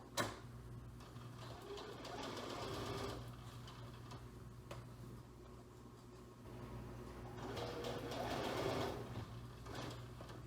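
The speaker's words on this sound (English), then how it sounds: "I'm going to sew in the ditch here in the iron marks that I made surrounding these pins." A sewing machine stitches in the ditch through a quilt top along pressed iron marks, its motor humming in faint bursts that rise and fall over about ten seconds, with no one speaking.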